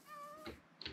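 A cat in Minecraft gives a single short meow, fairly quiet and clear, with nothing else around it.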